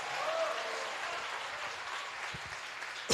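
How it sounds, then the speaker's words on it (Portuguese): Congregation at a church teaching service applauding, a soft, distant, steady patter of clapping throughout, ending in a brief louder knock. "Você pode aplaudir a Deus,"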